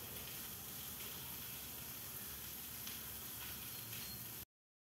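Cumin, coriander and turmeric spices frying lightly in a pan for a vegetarian cucumber dish, giving a steady, dense sizzle and hiss that runs evenly and close until cutting off abruptly near the end.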